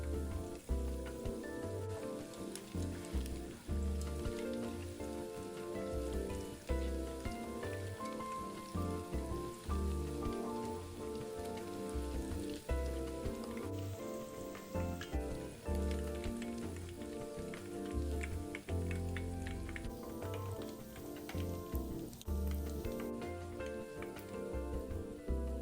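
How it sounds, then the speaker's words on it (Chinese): Taro meatballs deep-frying in hot oil give a faint, steady crackling sizzle that runs throughout, with soft background music beneath. "炸约3到4分钟，丸子浮起，切表面微金黄时捞出"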